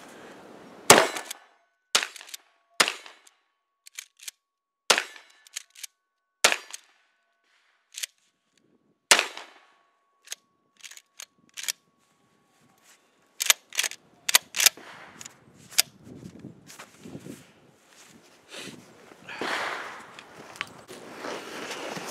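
A Remington 870 pump shotgun with a Magpul stock fires buckshot at an outdoor range, a series of loud, sharp blasts with gaps between them, with clunks of the pump action and handling noise in between.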